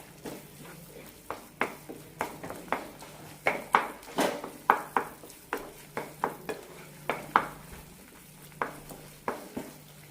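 Bread halwa cooking in ghee as it is stirred, a soft low sizzle under a steady series of sharp spoon scrapes and taps against the pan, close and repeating roughly every half second.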